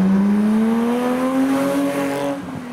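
A Calypso Red BMW E30 pulls into a Japanese car meet at night at speed, its engine note loud and close, rising steadily in pitch as it approaches, then easing off near the end.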